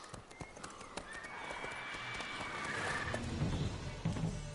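Horse hooves in The Witcher 3 game clop steadily at a walking pace, then grow louder and heavier toward the end, with a faint sustained tone running through the middle.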